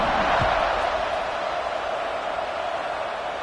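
Football stadium crowd at Arizona State vs Missouri, a broad continuous buzz of many voices filling the space evenly, loud and steady after a score.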